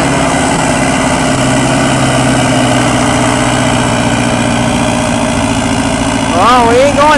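Diesel tractor engine roaring steadily at a fairground tractor pull, a loud continuous drone that swells slightly near the end, with faint voices underneath.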